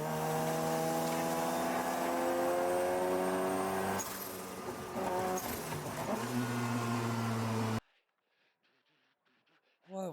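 Race car engine in the iRacing sim revving loud and steady with rising harmonic pitch sweeps, dipping and climbing again as throttle comes on and off, then cutting abruptly to near silence with faint voices near the end.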